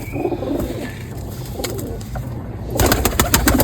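Pigeons coo nearby in a loft, repeated low throaty calls, followed near the end by a burst of quick clicking and fluttering.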